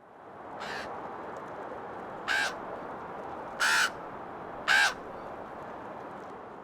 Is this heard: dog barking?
no